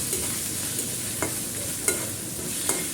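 Onion, black pepper and ginger paste fry steadily in oil in a wok for a beef mushroom curry, a soft continuous sizzle broken by a few light stirring taps.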